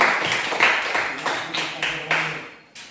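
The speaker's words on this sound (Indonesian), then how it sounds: "tepuk tangan untuk Bapak" Short burst of applause for a participant in a classroom storytelling activity, with loud rhythmic claps at first that thin out and fade to silence.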